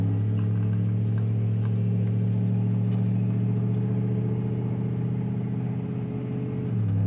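A second-generation Dodge Ram truck's engine drones steadily and loudly as it pulls through the gears, with a low, even rumble that eases briefly near the end.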